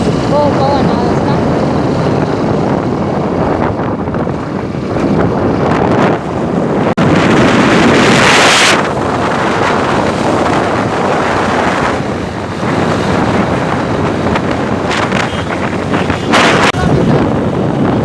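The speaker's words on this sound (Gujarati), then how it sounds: "બહુ પવન આવે છે" Strong wind buffeting the microphone on a roadside trip near Kokhlana on the way to Jasdan, a steady loud roar that swells and gusts throughout.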